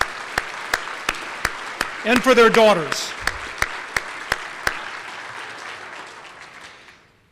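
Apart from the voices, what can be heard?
audience applause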